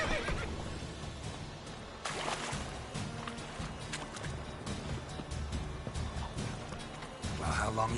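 Roach, a horse in the video game Witcher 3, whinnies amid hoof clatter and busy in-game ambience, with a brief burst of speech partway through.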